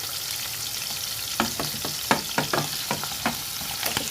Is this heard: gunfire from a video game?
no